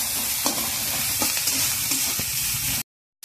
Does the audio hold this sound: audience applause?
no